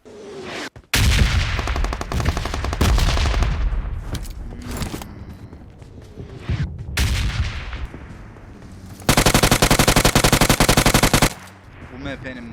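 Automatic rifle fire from PUBG Mobile during a late-game fight, loud bursts of rapid shots repeated across the scene, ending in a long dense volley, with no talk over it.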